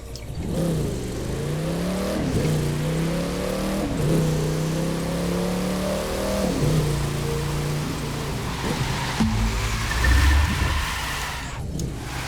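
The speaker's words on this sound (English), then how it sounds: "so that was the drift" Car drifting in the racing game The Crew 2, a steady engine drone with rising and falling revs as the tyres hiss through slides, loud and continuous with no talking.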